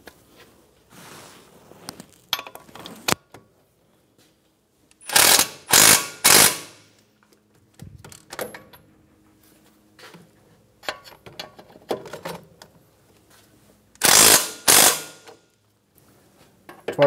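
A ratchet snugs down bolts on a 2013-2017 Honda Accord front knuckle in short, loud bursts of rapid clicking, two clusters separated by quieter clinks and shuffling of tools.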